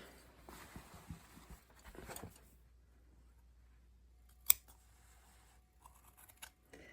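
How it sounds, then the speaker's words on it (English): One crisp scissor snip cuts through leather after a stretch of soft rustling and handling, with quieter fumbling sounds following. "I'm going to take my scissors and just whack-a-do it off."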